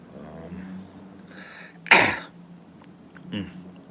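A person clears their throat and gives a sharp, loud cough, followed by a second smaller cough, with faint murmuring in between.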